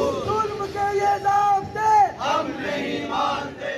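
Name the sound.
protesting teachers chanting slogans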